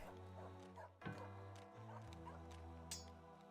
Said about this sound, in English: some stray dogs here